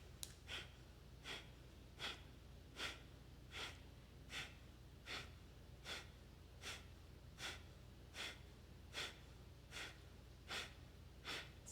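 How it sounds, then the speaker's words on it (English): Forceful yogic breathing with air pushed out through the belly, about fifteen short, sharp exhales in a steady rhythm roughly every three-quarters of a second, faint and close, with passive inhales between. "push the air out. The belly pulls in, and the sound of the breath is fierce."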